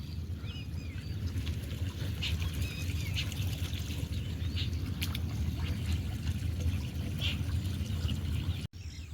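Steady rushing and trickling floodwater flowing into a canal, continuous and fairly close, with faint outdoor sounds in the background.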